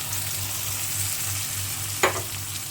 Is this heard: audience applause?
no